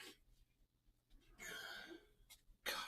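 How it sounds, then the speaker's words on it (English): A person sneezes in a few sharp bursts, with a final loud sneeze near the end after quieter breathy ones, indoors and close up. "What's with the sneezing?"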